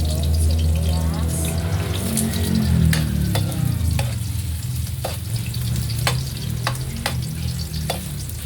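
Onions frying in a pan for Filipino chicken tinola, a dense steady sizzle with scattered sharp clicks of utensils against the pan, close and loud.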